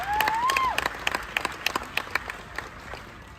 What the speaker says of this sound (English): Round of applause one more time for your top 5